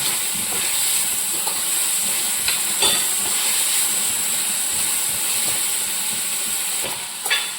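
Onions sautéing in a pan with mushrooms, a steady, even sizzle and hiss holding throughout with small crackles and pops, close and fairly loud with no talk.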